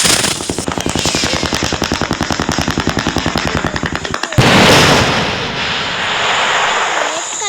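A string of Diwali firecrackers bursts in a rapid, regular volley of sharp cracks for about four seconds, then a louder blast gives way to a loud crackling fizz that slowly fades.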